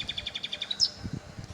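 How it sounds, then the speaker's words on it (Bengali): A bird gives a quick run of high, rapid chirps, close and clear, over soft low thumps. "পাখিরা ডাকছে"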